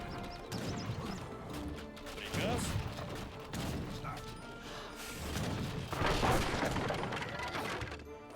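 Age of Empires 3 battle sounds: gunfire and crashing hits on a blockhouse come in repeated bursts, mixed with clattering units and hoofbeats, and a commentator's voice runs over the action.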